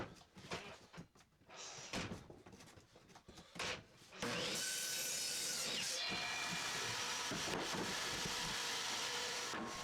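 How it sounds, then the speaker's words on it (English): A miter saw cuts 2x4 boards in half, a broad steady whine of blade through wood that starts partway through and holds loud and constant after a stretch of scattered knocks and handling sounds. "take the 2 last 2x4s for this project and cut them in half on the miter saw"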